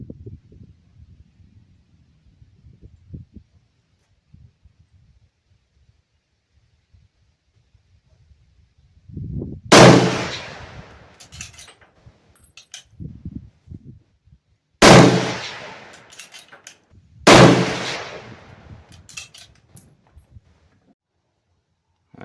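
Three loud rifle shots from a .303 British with iron sights at a 100-yard range, sharp close cracks with brief echoing decay, spaced several seconds apart after a quiet stretch of light handling noise.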